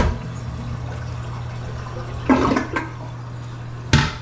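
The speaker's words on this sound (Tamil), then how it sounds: "லெட்ஸ் சி, பார்ப்போம், ஃப்ளஷ் பண்ணி பார்ப்போம்" A household toilet that had just been repaired for noisy filling flushes with a steady rush of water close by, and a few louder gurgling surges break through the flow.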